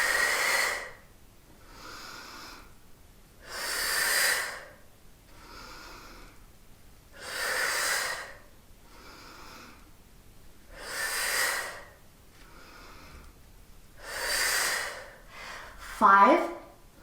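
Rhythmic exhaling breaths during a total-body fitness and yoga workout, about eight long breathy whooshes spaced roughly two seconds apart, fairly close, ending with a short tonal squeak.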